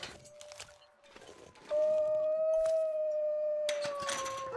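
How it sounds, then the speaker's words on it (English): Wolves in The Long Dark video game give a long, rising howl, joined by a second howling voice near the end, moderately loud against a quiet background with no talk. "I do hear some of the wolves"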